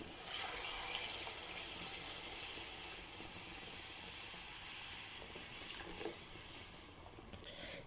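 Buttermilk poured into a hot pan of tempering for karhi, a loud steady sizzling hiss that fills the whole stretch with a few small pops near the end.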